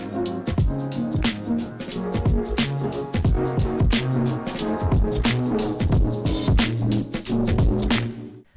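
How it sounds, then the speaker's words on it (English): Crunchy, clipped instrumental music from an Allen & Heath XONE:96 DJ mixer with its preamp clipping, sharp repeated percussive hits and buzzing harmonic distortion throughout, steady and fairly loud. "the preamplifier clips the input signal, which can sort of create a harmonic distortion as a creative effect"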